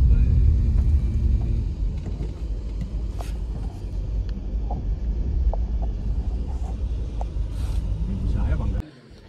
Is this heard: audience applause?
no